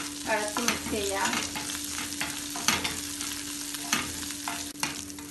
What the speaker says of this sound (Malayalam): കുറച്ച് കറിവേപ്പിലയും കൂടിയിട്ട് ഒന്ന് ഇളക്കി മിക്സ് ചെയ്യാം.